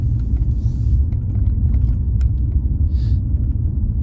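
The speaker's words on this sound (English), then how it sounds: "A golf cart, not a ATV vehicle." A golf cart rolls along a neighborhood road, a steady low engine and tire rumble holding at a constant level throughout, with a few faint higher rattles and hisses over it and no talking.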